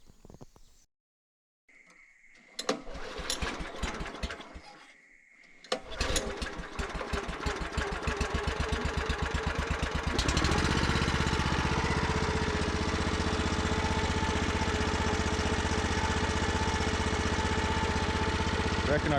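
A homemade jaw crusher with a swapped pulley running at around 270 RPM, starting with a few knocks and rattles before settling into a loud steady mechanical drone as small rocks are fed in and crushed.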